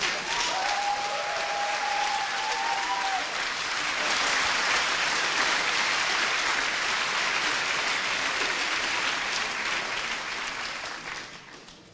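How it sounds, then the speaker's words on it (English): Sustained applause from an audience at a physics event, dense clapping that holds steady for most of the stretch, swells slightly midway, then gradually thins and fades toward the end. "it's wonderful to be at a physics event where there is applause like there is at a football game."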